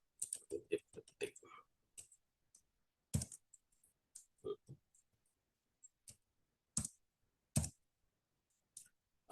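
Scattered clicks and taps from a computer keyboard as someone types code, arriving in short bursts with pauses between, close and crisp in a quiet room.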